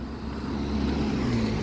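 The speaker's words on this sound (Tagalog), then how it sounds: "it's traffic early in the morning." Early-morning road traffic in the rain: a steady low engine drone of passing cars swelling slightly as vehicles go by, with a continuous wet road hiss and no voices.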